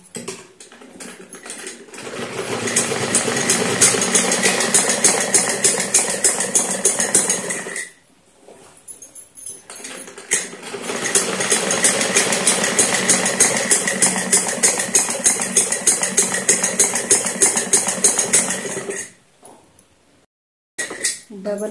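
A sewing machine double-stitches a seam on a Semi Patiala salwar, running in two long rapid bursts of dense mechanical clatter with a brief pause between them and quiet at the edges.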